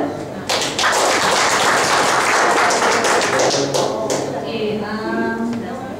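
An audience claps together at an evening gathering, a dense, loud burst of applause that holds steady for several seconds before thinning, with a voice emerging near the end.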